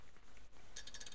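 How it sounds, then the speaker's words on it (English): A handle is pulled in the dark puzzle game Limbo, setting off a brief mechanical clatter of ratcheting gears after a moment of quiet ambience. "I see a handle. I shall pull it."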